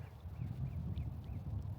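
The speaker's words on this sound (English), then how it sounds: "Ah, there's a little duck." A small duck quacks faintly by a river, a few short distant calls over a steady low rumble of wind and water.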